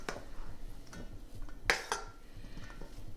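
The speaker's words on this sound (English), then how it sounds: "I'm ready to mix the potato salad." Potato salad being mixed in a bowl, with spoon-on-bowl clinks and scrapes: a few scattered taps and one sharper clatter near the middle, close and moderately loud, with no talking.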